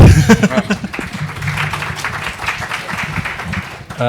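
An audience at a panel discussion on cloud and data spaces applauds. A brief voice opens, then a steady patter of many hands clapping carries on at moderate loudness and fades slightly near the end.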